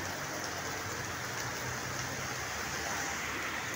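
Heavy rain pours in a constant dense hiss with a steady roar, loud and unbroken throughout, with no voices.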